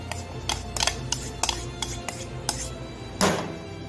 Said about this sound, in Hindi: ये प्याज भी इसमें क्या मैश करेंगे इस तरीके से।